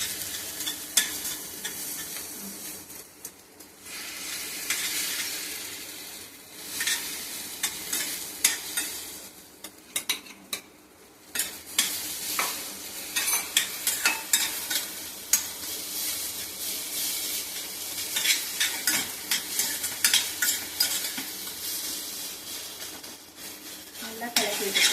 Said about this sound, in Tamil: அடுப்பை ஹையில் வச்சுட்டு இந்த எக் ஊற்றிட்டு